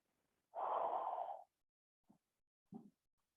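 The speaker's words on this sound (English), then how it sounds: "Three more cycles of deep breathing." Deep breathing during a restorative yoga session: one long, steady breath lasting about a second, followed by two brief, softer breath sounds, close and quiet with no talking.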